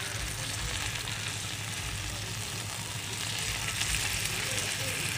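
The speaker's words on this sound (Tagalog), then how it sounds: "Prito na natin siya ng bahagya." Pork sizzles and crackles steadily in a hot pan, a dense frying hiss throughout with faint clinks underneath.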